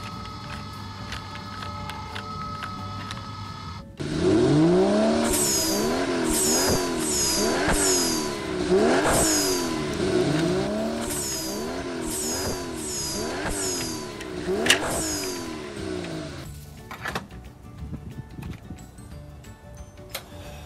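A car being washed at a car wash service, with loud repeated swooping mechanical whines and hissing sprays in regular cycles from nearby machinery, over a steady background hum, fading near the end.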